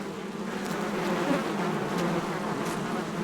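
Dense, steady buzzing of honeybees around a hive, close and continuous without pause, filling the short stretch evenly.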